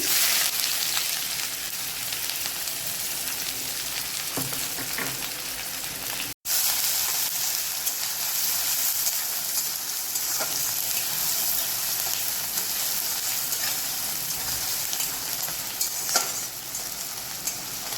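Chopped onion frying in hot oil with whole dried red chillies, bay leaf and cumin for Bengali chicken liver curry, a loud, steady close sizzle throughout with faint stirring scrapes and one brief cut near the middle.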